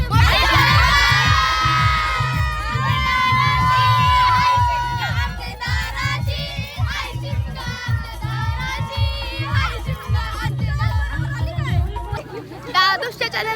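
Crowd of children and adults cheering and shouting loudly at a Holi arrival celebration in Apta Koliwada, a continuous excited roar with rhythmic drumming underneath and piercing individual shouts rising above.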